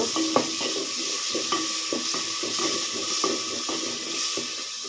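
Green chili and garlic sizzle in a hot pan while being stirred, with steady frying hiss broken by repeated scraping stirs throughout, close and moderately loud.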